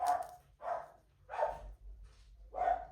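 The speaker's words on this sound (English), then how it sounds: "There's my crazy dog barking." A pet dog gives four loud, sharp barks at an even, steady pace, each one separated by a short pause. No other sounds compete with the barking.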